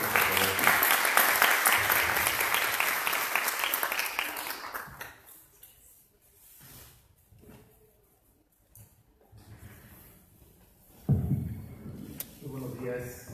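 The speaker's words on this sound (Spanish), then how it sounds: "Un aplauso, por favor." Audience applause greets a speaker at a legal lecture on amparo proceedings: sustained clapping for about five seconds, then fading into a quiet room with faint shuffling.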